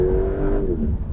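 Engine roar of a 711 hp Porsche 911 Turbo S 992.2 sports car on a racetrack, a loud, steady growl that holds strong and then eases slightly near the end of a brief burst, with no talk over it.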